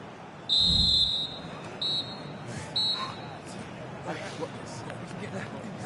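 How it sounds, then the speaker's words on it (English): A referee's whistle in the football video game FIFA 25 sounds in three shrill blasts, a long one followed by two shorter ones, over a steady murmur of crowd noise. "the referee blows the whistle"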